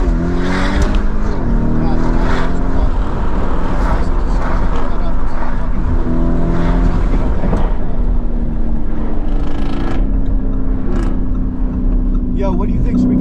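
A car roars and revs at speed through New York City streets during a high-speed chase, engine loud and continuous with rising and falling pitch and whooshing road noise throughout, voices talking over it.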